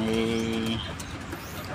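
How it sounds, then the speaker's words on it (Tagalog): Pet pigeons give a short, soft coo, faint and brief, with a quiet room hush behind it. "Kalapati."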